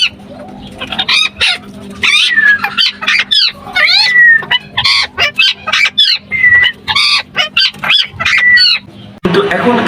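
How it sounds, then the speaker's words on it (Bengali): Indian ringneck talking parrots squawk and screech in rapid, loud, close bursts, one call after another with short gaps between them. "আমি সংগ্রহ করি আমার ফ্রেন্ডের কাছ থেকে ইন্ডিয়ান রিংনেক কথা বলা টিয়া পাখি"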